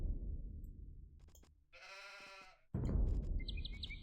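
A sheep in a strategy video game gives a single drawn-out bleat lasting about a second, clear over low game ambience and rumbling background, followed by brighter chiming interface tones.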